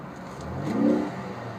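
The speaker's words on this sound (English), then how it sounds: "Get that turbo sound as well." A 2013 Ford Focus ST with its turbocharged EcoBoost engine revs once in a short, smooth rise and fall, close and moderately loud, with no talking.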